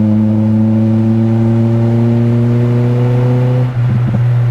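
A Nissan Pulsar SSS engine climbs steadily in pitch under full throttle, a loud close rising drone that cuts off near the end as the revs drop away, with no voices.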